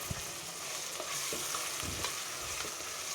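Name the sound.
frying ground masala with green peas for tomato bath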